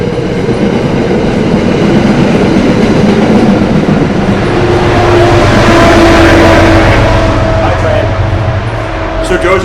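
A train rolls past nearby, its loud rumble and rattle of rail cars swelling toward the middle and then easing, covering the whole stretch.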